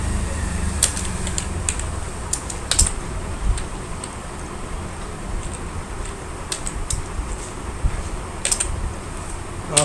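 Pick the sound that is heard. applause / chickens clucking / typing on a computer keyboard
typing on a computer keyboard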